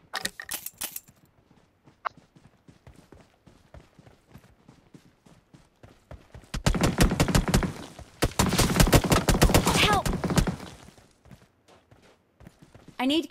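Video game gunfire: rapid automatic bursts fire in two long, loud volleys midway through. Quieter stretches before and after hold scattered single shots and footstep-like clatter.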